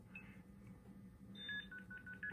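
Telephone dialing tones on a landline call through the ProjectMF trunk system, a brief tone early, then a rapid run of short beeps toward the end over steady line hum, with no talk.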